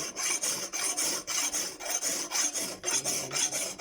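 A hand file rasps back and forth along a machete blade, a rhythmic series of even, harsh scraping strokes at a steady pace, close and alone without talk.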